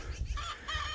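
Pilgrim geese calling in a short burst of honking, fairly loud and close, with harmonic calls rising over a low background rumble.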